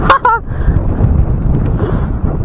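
Strong wind buffets the microphone outdoors in Vermosa, Cavite, a loud low rumble with gusty swells, and a brief vehicle honk or horn-like tone near the start.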